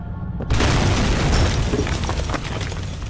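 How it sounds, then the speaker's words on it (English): Fuse-lit explosion in the video game Penumbra: a sudden heavy boom after a brief quiet moment, followed by a loud rumbling roar and debris crackle that lingers for a few seconds. "That's kind of weird that the explosion only happens when you're facing towards it."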